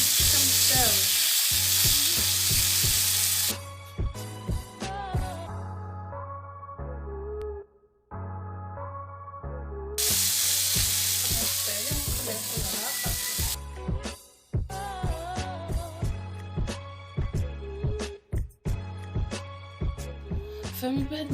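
Chicken pieces fry in a covered pan, a loud, steady close sizzle that drops out briefly twice and returns, with faint clinks and background music throughout.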